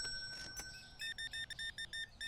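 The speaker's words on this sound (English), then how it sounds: "Beep beep beep beep." Rapid bright beeps from a checkout scanner in the video game Supermarket Simulator, six or seven in a steady rhythm after a short clatter and tone, with no talking heard.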